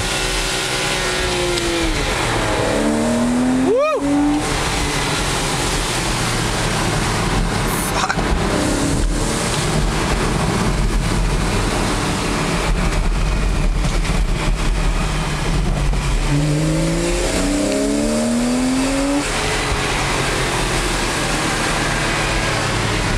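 A Porsche 911 engine revs and accelerates on a German country road, heard from inside the car as a loud, sustained drone with rising pitch sweeps at the start and again near the end.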